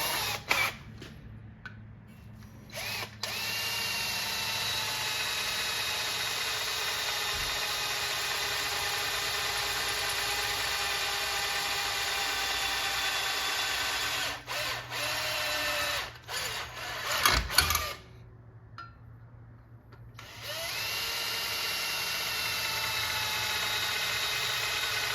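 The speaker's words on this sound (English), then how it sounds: "As you can see, I'm drilling" An electric drill runs steadily on a metal part from a Solar Fox arcade cabinet, a sustained whine that cuts out briefly a few times before starting up again, with no voices.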